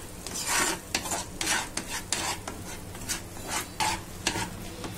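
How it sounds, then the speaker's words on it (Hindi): Smooth raw mango paste cooks in a pan while being stirred, with repeated rhythmic scraping strokes over a low sizzle, close and fairly loud. "और उसके बाद मैं इसमें डालूंगी ये स्मूथ पेस्ट कच्चे आमी का। और अब हम इसे 2-3 मिनट तक अच्छे से पकाएंगे।"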